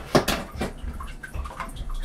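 Water gurgles and sloshes as it drains through the bell siphon of an IBC tote aquaponics system, in uneven splashy bursts, close by and fairly quiet.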